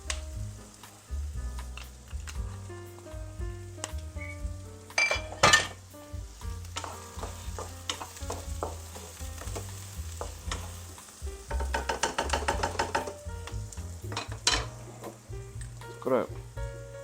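Butter with a splash of vegetable oil sizzles and crackles in a frying pan, a steady hiss under background music with spoon stirs and pot clinks in a home kitchen.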